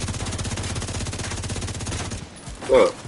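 Rapid automatic gunfire in The Division 2 rattles in one sustained, loud, close burst for about two seconds, then cuts off; a brief voice follows.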